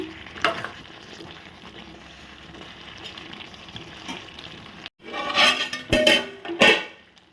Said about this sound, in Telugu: నేను కూర తిప్పే దాంతో రెండు గట్లు వేసాను